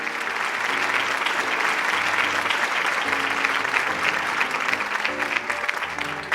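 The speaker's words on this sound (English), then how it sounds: "please give a virtual round of applause for all of our 2020 Founders and Zenith Award recipients" Steady applause for the 2020 Founders and Zenith Award recipients at the Georgia Association of Black Women Attorneys Foundation virtual honors, even and sustained throughout with soft background music tones underneath.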